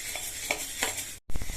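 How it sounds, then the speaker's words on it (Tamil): Toor dal and urad dal dry roasting in a pan, stirred with short scraping strokes and a soft crackle, close and steady, broken by a brief silent gap before louder stirring resumes. "பருப்பு பொன்னிறமா வறுபடணும். அது வரையும் வறுத்துக்கலாம்."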